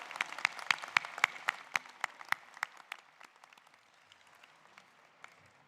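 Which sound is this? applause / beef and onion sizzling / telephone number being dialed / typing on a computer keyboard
applause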